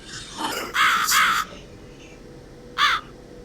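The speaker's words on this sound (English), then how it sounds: "I am the Crow, of course." A crow in the video game The Cat Lady gives a few loud, harsh caws: two close together, then a single call after a short gap, with no talking.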